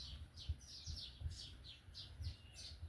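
Small birds feeding on scattered wheat chirp repeatedly in quick, bright tweets, fairly faint and somewhat distant, with a low rumble underneath.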